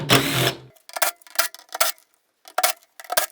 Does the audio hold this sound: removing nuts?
yes